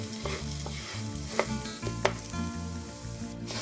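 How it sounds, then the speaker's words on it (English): Rice toasting in a pan over medium heat is stirred continuously, giving a steady close sizzle broken by repeated scraping strokes and a couple of sharp clicks from the spoon. "And you want to keep on stirring it for about 5 minutes."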